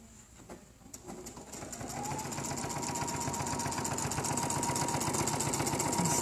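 A sewing machine stitches fabric up close, its rapid needle beat speeding up over the first couple of seconds and then running as a steady, even mechanical rattle with no talking.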